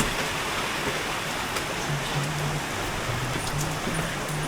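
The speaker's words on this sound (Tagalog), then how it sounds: "Malakas ang ulan, guys" Heavy rain falls in Japan, a continuous dense hiss of drops with no break, loud and close, with a faint low rumble underneath.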